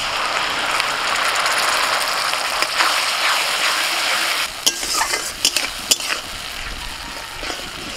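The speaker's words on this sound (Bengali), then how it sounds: "টমেটোটাকে একটু তেলের মধ্যে নাড়াচাড়া করে নিয়ে" A spatula stirs tomato paste through hot oil with ginger garlic paste and onions, giving a continuous sizzle with scraping strokes and clattering knocks against the pan in the second half.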